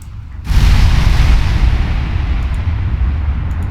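Heavy shell impacts and gunfire in a naval battle in the Ultimate Admiral Dreadnoughts warship game, with a sudden loud boom followed by a sustained, rumbling roar of explosions and flooding damage that carries on to the end.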